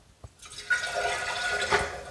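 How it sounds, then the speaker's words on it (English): Water leaking from a toilet during installation, a short rushing, gurgling flow of water that starts after a small knock and carries on steadily, close and fairly loud. "you're going to notice some kind of a water leakage like this"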